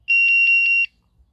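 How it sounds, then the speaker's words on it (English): Five short, evenly spaced electronic beeps from a Soca ST 320 card keypad in quick succession, clear and close, followed by silence. "then beep sound will come."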